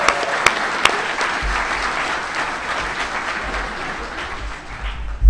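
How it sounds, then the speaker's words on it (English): A convention panel audience at Emerald City Comicon claps for the Batcam in a full, steady round of applause, with a few sharp close claps near the start and a low rumble underneath. "big round of applause for the Batcam"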